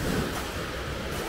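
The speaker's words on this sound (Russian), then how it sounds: "Волна набегает." Waves break and wash over a pebble beach on the Black Sea in winter, a brief, full rushing surge mixed with some wind noise and no voices.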